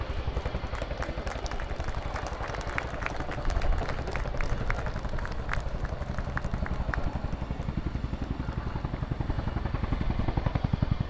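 A Royal Air Force Chinook twin-rotor helicopter flies a display at an international air show, its loud, steady rotor thump and turbine roar filling the air continuously, rising slightly in intensity midway.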